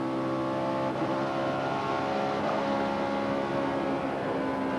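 A NASCAR stock car engine at Texas runs rough at high RPM as if down a cylinder, a continuous loud droning roar with dense harmonics and no clear rise or fall.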